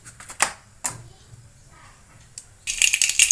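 Mustard seeds dropped into hot oil to temper boiled dal, a short burst of dense crackling and popping near the end after a few faint clinks and kitchen handling sounds, close and fairly loud.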